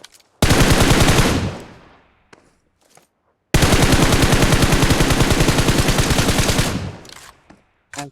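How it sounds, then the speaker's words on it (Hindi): Rapid automatic gunfire in the mobile battle royale game BGMI, aimed at a tower, comes in two loud sustained bursts, a short one and then a longer several-second stream, with a few scattered single shots between and after. "मैं यहाँ टावर के ऊपर फायर कर रहा हूँ"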